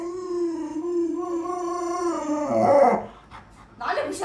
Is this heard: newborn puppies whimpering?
yes